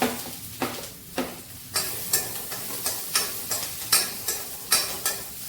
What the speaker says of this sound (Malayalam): നല്ലോണം ചൂടായിട്ടുണ്ടെങ്കിൽ ഇതിലേക്ക് പച്ചമുളക് ഇടാം